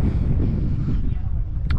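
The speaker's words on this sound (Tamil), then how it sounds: "லைட்டாக மேலே ஏற ஏற காற்று ஜிலு ஜிலுன்னு வருதுங்க" Wind buffets the microphone on Kondarangi Hill in Tamil Nadu in a continuous low rumble, a steady blustery roar throughout.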